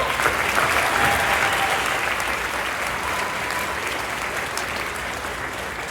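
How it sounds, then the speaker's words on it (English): A graduation ceremony audience at Vermilion High School applauds in a sustained, dense wash of clapping that stays loud and steady throughout, with faint crowd murmur beneath. "Let's get a round of applause."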